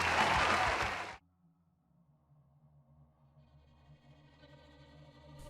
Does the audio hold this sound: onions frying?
no